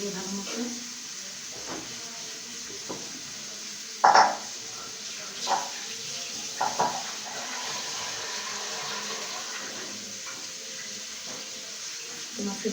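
Water runs from a tap or is poured into a cooking pan for boiling fish roe, a faint, soft trickle with a few small clinks and splashes against a quiet room background.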